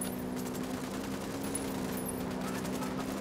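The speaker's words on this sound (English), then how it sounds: "Opening fire." Sustained automatic gunfire in a Ghost Recon Wildlands firefight, a dense continuous rattle of bursts layered over a steady low drone, loud and unbroken throughout.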